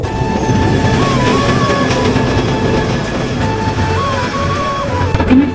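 Passenger train arriving at Laksam Junction railway station in Bangladesh, a steady loud rumble of rolling carriages with clickety-clack wheels and faint wheel squeal running throughout, close by and without talk.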